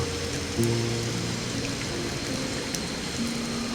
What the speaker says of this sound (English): The rain will keep falling